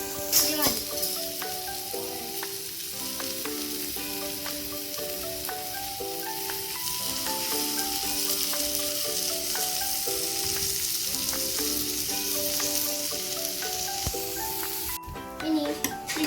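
Bread slices toast on a pan over a medium flame for homemade garlic bread, giving a soft continuous sizzle close by under steady background music, with the sizzle cutting off near the end.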